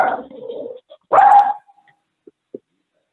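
Dog on an unmuted council meeting call gives a short growly bark and one sharp loud bark, followed by a few faint clicks and quiet gaps.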